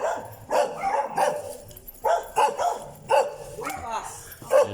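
Large dogs barking repeatedly near a house under construction in Casa Isabel, loud nearby woofs in uneven bursts, with people talking in between.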